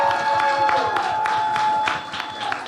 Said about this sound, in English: Can we start clapping for Nick and Leo from Love is Blind?